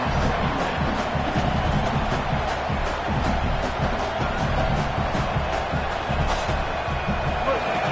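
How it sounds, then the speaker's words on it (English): Large stadium crowd at an Ole Miss vs LSU college football game roars loudly and continuously, a dense wall of noise with scattered claps and shouts, with commentary heard over it. "This crowd, full throat, spreading the eardrums and letting them know it's going to be a long day"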